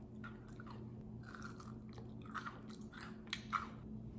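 Close, crisp crunching of grape-flavoured crystal candy (kohakuto) being chewed, with irregular bites and crackles over a quiet low hum.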